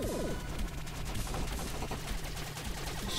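Ship guns firing in the space action game Fission Superstar X, a steady wash of rapid weapon fire under game music, fairly quiet and continuous.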